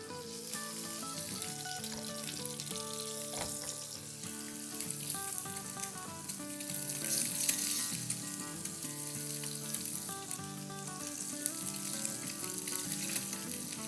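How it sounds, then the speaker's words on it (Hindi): Eggs laid yolk side down into hot oil sizzle and fry steadily for the whole stretch, a soft continuous crackle with faint stirring and no talk. "और अब ये अंडे जो है वो जर्दी के साइड जो है डाउन ये डाल देंगे। तो ये जैसे सिजलिंग साउंड आया ना"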